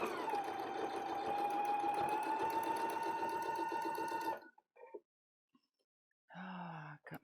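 A sewing machine runs steadily for about four seconds stitching a quarter-inch seam, then stops, followed by a few small handling clicks and a brief murmur of voice.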